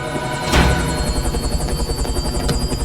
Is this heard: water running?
no